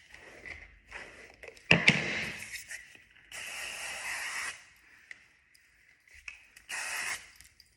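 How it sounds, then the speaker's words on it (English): Dry hairspray hisses out of a can in several bursts while hair extensions are brushed, the loud spray blasts alternating with softer brushing strokes. "we're gonna spray and brush and spray and brush"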